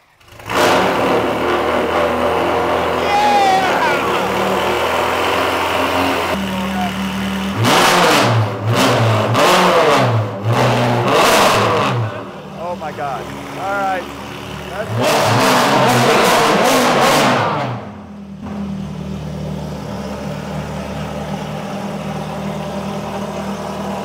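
A car engine revved to about 3,000 RPM on a cold day, idling steadily between several sharp, loud blips of throttle, with people talking over parts of the idle.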